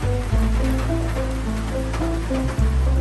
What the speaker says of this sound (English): It's starting to rain outside.